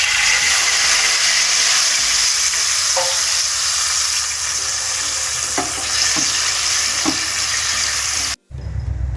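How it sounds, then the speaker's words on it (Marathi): Tamarind water poured into a hot pan while making garlic pickle, setting off a loud continuous sizzle with a few faint clinks, then a sudden brief cutoff near the end. "तर मी इथे चिंचेचं पाणी टाकत आहे."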